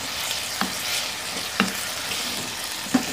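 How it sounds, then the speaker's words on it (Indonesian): Chicken croquette filling seasoned with ground pepper and sugar sizzles steadily in a pan, with three sharp scrapes of stirring spaced about a second apart over the continuous frying hiss. "Diaduk-aduk sampai ayamnya matang."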